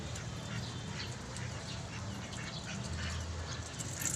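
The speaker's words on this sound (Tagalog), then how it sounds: "papakita ko sa inyo kung anong kinakain ng alaga kong bibi" Pet ducks feeding on styrofoam, with soft nasal quacks and busy pecking sounds mixed into a steady outdoor din, fairly close and continuous.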